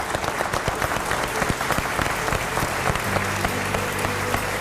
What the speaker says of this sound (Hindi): एक बार इनके लिए ताली बजा देते हैं